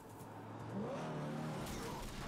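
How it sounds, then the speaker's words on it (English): A car engine revs and surges in the Yakuza 0 video game as it drives at Kuze, with a swelling motor roar and faint tire squeal at moderate volume. "Run him over, come on, hit Kuze with the car."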